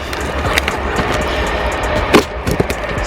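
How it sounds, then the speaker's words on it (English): A train passes nearby, a loud, rough rolling rumble with clattering bursts and rattles throughout. "Sorry about the train, very noisy."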